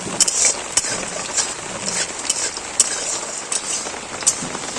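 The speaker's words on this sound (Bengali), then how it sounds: "আমাদের এপাশে খুব বৃষ্টি হচ্ছে" Steady heavy monsoon rain pouring down outside a kitchen, a dense continuous hiss with scattered louder drops and splats close by.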